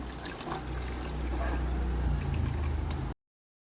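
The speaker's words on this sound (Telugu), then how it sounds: "ఇప్పుడు మనం దీంట్లో వాటర్ పోస్తున్నాం." Water poured into a small home-made fountain basin, a steady close pour with trickling and filling that grows fuller before cutting off abruptly.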